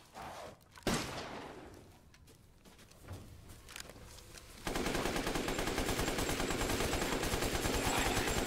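Shotgun fire in the video game Resident Evil Village: a sharp blast early on, a quieter shot later, then a sustained loud burst of rapid gunfire and action noise filling the rest, no talk.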